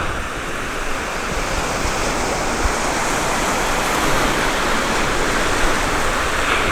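Waves wash onto a beach beyond a rock on the coast, a continuous broad roar of surf at fairly loud level with no voices over it.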